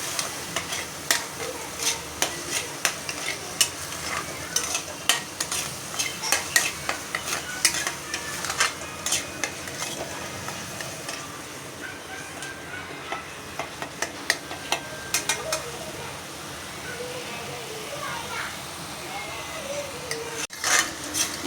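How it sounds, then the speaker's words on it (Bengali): Spices including ground coriander, salt, chili powder and turmeric are stirred and sautéed in a pan, with a steady sizzle under repeated scraping strokes of a utensil, close and moderately loud throughout. "এই যে মশলা কষে নিয়েছি"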